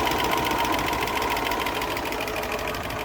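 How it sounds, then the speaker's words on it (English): A 1972 Range Rover engine idles at a lowered speed of about 750 to 775 RPM after carburettor adjustment, a steady dense mechanical clatter with an even ticking rhythm throughout. "The engine's now running at 750 or thereabouts, 775."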